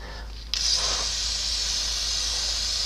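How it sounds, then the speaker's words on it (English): A blue-and-white aerosol can of penetrating lubricant sprays onto air brake hose swivel fittings on a semi trailer. After a quiet opening it gives a sudden close, loud, continuous hiss that holds steady to the end. "I'm using some stuff out of the white and blue can here, but it's not WD-40"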